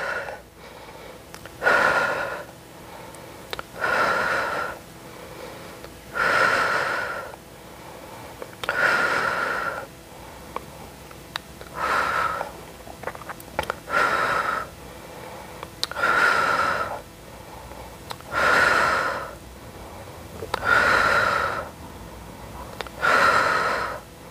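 Heavy, rhythmic breathing during a strength-training workout, with about ten loud, near breaths in and out spaced a couple of seconds apart, each a rushing airy exhale over brief quiet gaps, no talking.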